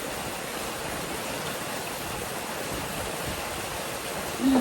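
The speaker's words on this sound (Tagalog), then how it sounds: "Wala na masyadong ulan." Steady rain falls in the provinces of the Philippines, making an even, broadband hiss that holds unchanged throughout at a moderate level, with no voices.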